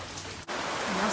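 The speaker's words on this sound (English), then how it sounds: "It sucks when it rains." Steady rain falls outdoors in a yard, a dense even hiss of drops that runs through the whole moment with only a brief dip midway and no voices.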